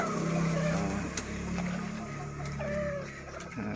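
Chickens in a home yard, fed on leftover rice and food scraps, cluck repeatedly at close range over a low steady background hum, with occasional louder calls.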